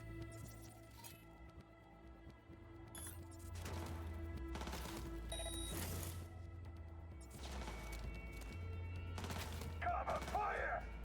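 Bursts of gunfire in the video game Cyberpunk 2077, several clustered volleys of shots with clinking impacts over a low droning score, moderately loud throughout.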